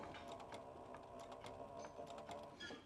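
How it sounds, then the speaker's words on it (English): A sewing machine hums continuously at low volume while stitching leather piping for a classic duffel bag, a steady mechanical drone with faint rhythmic ticks and no talking. "get a little bit of the straightaway sewn up here so it's facing the right direction"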